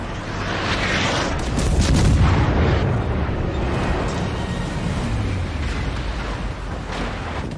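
In World of Warships, torpedoes strike a ship, setting off heavy booming explosions with a loud rumbling blast near the start, followed by sustained roaring, crackling battle noise.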